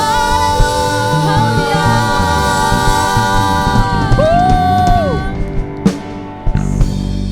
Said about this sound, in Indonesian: Berikan sorak-sorai bagi Tuhan